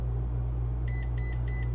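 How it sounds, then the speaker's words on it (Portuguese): A multimeter's continuity alarm sounds while testing the dock connector pins of an iPhone 7 that won't power on or charge, giving a steady high beep that pulses several times at the end over a constant low hum. "esse meu multímetro, ele tem o alarme sonoro"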